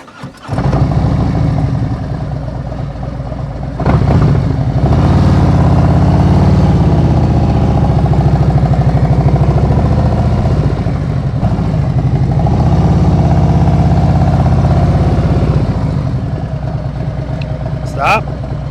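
A motorcycle engine idles and then pulls away slowly in first gear during a slow-speed riding exercise, a steady close mid-pitched drone that swells slightly with the throttle, with a voice talking over it.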